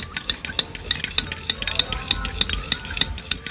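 A homemade herbal hair oil mixed with capsule liquid is stirred in a small container, a close, rapid rhythm of light metallic clinks and swishes repeating about three times a second, without talking.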